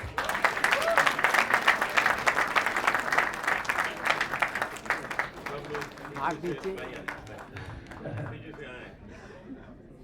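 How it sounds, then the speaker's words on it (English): Applause at the launch of a devotional music album, full and dense at first and then tapering into scattered claps and murmuring as voices rise over the room. "Give them a round of applause, everyone."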